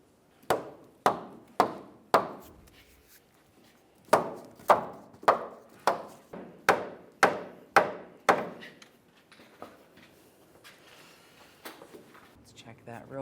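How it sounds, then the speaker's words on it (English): A rubber mallet taps a Chevrolet lower control arm mounting bracket into place with a series of about fourteen dull, solid knocks in two runs, evenly spaced and close, followed by quieter fumbling sounds. "give it a loving bonk with a rubber"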